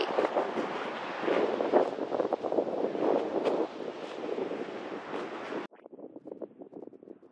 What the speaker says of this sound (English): The sound of the water is like echoing off this rock.